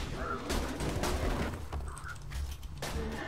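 Gunfire in Borderlands 2 crackles in several sharp bursts, fairly faint and mid-distance, mixed with game ambience and some talk.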